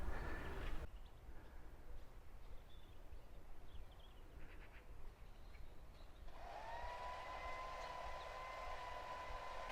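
A neighbour's hedge trimmer buzzes faintly beside a village chapel, a distant, steady motor drone that gains a clearer whining tone partway through.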